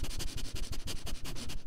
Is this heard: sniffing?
yes